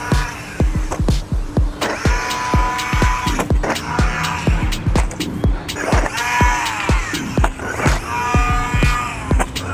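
A mini RC truck running on a 2S battery drives off-road, its electric motor whining up and down in quick surges, punctuated by sharp clicks and crunches from the terrain, close and steady with no talking.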